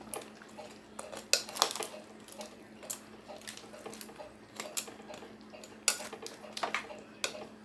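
A spoon clinks and scrapes against a pot while five packs of freeze-dried chicken are stirred into liquid, giving irregular rattling taps and clatters that come close and fairly quiet.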